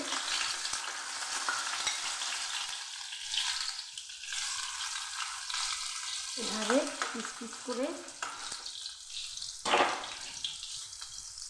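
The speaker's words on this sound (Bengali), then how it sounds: "একটু মাছ ভাজা তেলের মধ্যে দিয়ে একটু ভেজে নেবো" Pieces of boiled elephant foot yam fry in oil left from frying fish, a steady close sizzle with stirring scrapes, brief louder bursts, and someone speaking over it.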